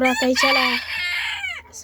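A rooster crows loudly nearby, a long drawn-out call preceded by a few short clucks.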